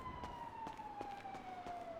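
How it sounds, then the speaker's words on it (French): Police sirens wail in the video game GTA 5, a single slowly falling tone sounding from a moderate distance over a steady background hum with faint clicks. "Les sirènes de quoi ça?"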